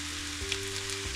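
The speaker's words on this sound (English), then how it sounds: "So I'm going to add my other aromatic now, my sesame oil." Sesame oil sizzles in a pan for egg fried rice, a brief soft crackling fry under a low steady kitchen hum.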